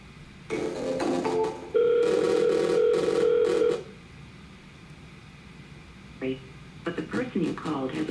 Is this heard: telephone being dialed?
yes